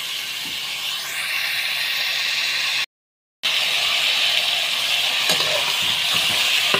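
Beef frying in its own fat with oil in a pot, a loud, steady close-up sizzle broken by one brief gap of silence.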